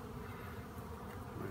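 Feral honeybees swarm around a healthy colony nesting in a garage, a dense, steady, close buzzing hum with no voices.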